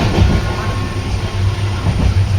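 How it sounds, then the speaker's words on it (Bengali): The Amrit Bharat Express, travelling from Banaras toward Sealdah, rolls along as a steady, loud low rumble heard from on board, with continuous wheel and carriage noise and no voices. "আমাদের চলছে অমৃত ভারত এক্সপ্রেস জার্নি বেনারস থেকে শিয়ালদা।"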